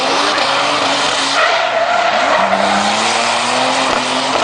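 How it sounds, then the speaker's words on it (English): Drift car with a large engine at Lydden Hill during a 2013 Super Pro qualifying round, its engine roaring steadily with shrill tyre squeal and skidding throughout, loud and continuous. "Budget drifting with an immense engine still"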